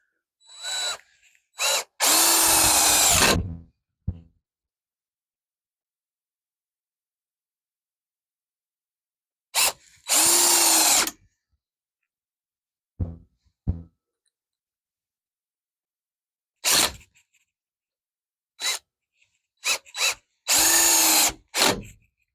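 A power drill drives long screws into a wooden rack in several short, loud bursts of whine, separated by long silences and small clicks as screws are set.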